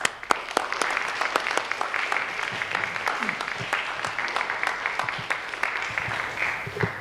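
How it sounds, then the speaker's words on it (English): An audience at a middle school Veterans Day program claps steadily throughout, a dense patter of many hands with a few sharper claps standing out near the start. "give Captain Murphy a round of applause for thanks"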